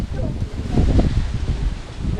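Wind buffets the microphone with low rumbling gusts, and leaves rustle throughout the short stretch.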